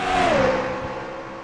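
Race cars in the NASCAR Racing 2003 video game roar past, a single engine whine sliding downward in pitch as it passes, loud and steady over a second and a half.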